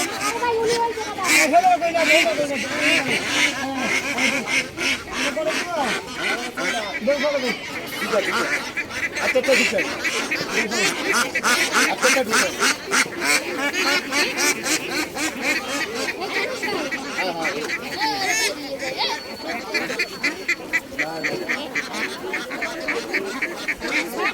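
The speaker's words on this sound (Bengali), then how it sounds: "এই যে হাঁসের গাড়ি এসেছে, এখান থেকে হাঁস নামাচ্ছে।" Flock of ducks being unloaded from a vehicle at a free duck handout, dense overlapping quacking close by with a crowd chattering and people speaking throughout.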